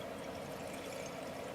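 Yellow acid solution from gold extraction off computer parts is poured out in a steady, faint, continuous liquid stream, heard alone.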